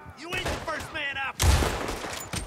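Gunfire in Red Dead Redemption 2, heard as a loud burst of shots followed by rumbling echo, with someone speaking in Spanish over the shooting.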